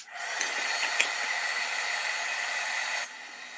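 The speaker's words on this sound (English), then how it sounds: "I'm going to heat up my heat tool again" A heat tool for a craft project heating up, a steady, close, loud blowing hiss that holds evenly for about three seconds and then cuts off sharply.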